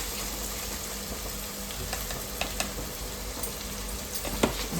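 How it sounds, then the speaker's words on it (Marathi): Ginger-garlic paste sautéing in a pan, a continuous dense sizzle with faint spatula scrapes and small pops; no voices. "आणि मग आपण पेस्ट टाकू अद्रक लसणाची. परतवून घेतलेला आहे."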